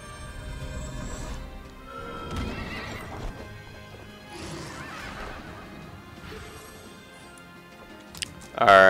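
Horse whinnying and clip-clopping in the Child of Light role-playing game, with battle effects and crashes, a loud shrill neigh bursting out at the very end.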